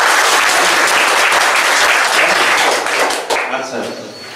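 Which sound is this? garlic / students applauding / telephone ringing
students applauding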